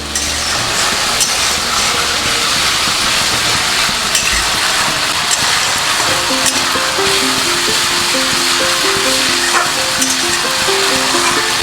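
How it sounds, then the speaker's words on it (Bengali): Potatoes and green chili paste being stirred in a pan for a Bengali jeera-paste aloo dum, a steady loud sizzle of frying throughout, with a faint musical tone entering partway. "কাঁচা লঙ্কা আমি দু চামচ দিলাম দিয়ে ভালো করে নাড়বো"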